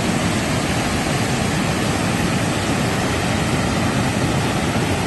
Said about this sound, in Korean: 폭포 소리 보세요.